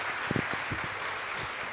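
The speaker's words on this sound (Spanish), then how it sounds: "démosle un fuerte aplauso" A church congregation claps, a faint, brief burst of many hands with a few distinct nearby claps standing out against a steady crowd wash.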